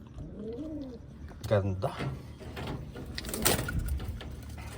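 Taiwan pigeons cooing up close, soft rolling coos alongside wing and cage movement sounds, while someone speaks over them.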